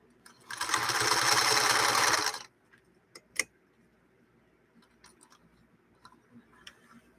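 A sewing machine runs a final stitch on a single layer of fabric after a tension adjustment, a close rapid whirring burst of about two seconds, then stops, leaving a few faint scattered clicks and taps.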